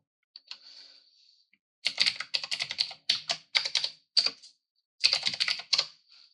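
Bursts of rapid keyboard typing, crisp clicking keystrokes in quick runs separated by short pauses, close and fairly loud with no voices.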